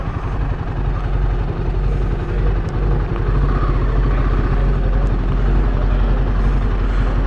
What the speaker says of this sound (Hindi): बाइक जाएगी अंदर।